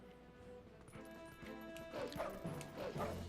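Wolf Link from a Zelda video game barks in short game-style yips, several quick barks growing louder toward the end over background game music.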